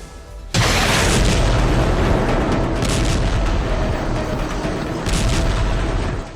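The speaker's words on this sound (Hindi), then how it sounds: "ये इजराइल की बमबारी का एक और वीडियो सबूत है।" Israeli air strike bombing in Gaza: a sudden heavy blast erupts into a sustained, loud roaring rumble of explosions, with further surges later, harsh and distorted.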